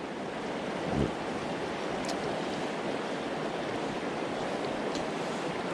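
Fast-flowing river water rushing over rocks, a loud continuous broadband roar close to the bank, with a brief thump near the start and no talking.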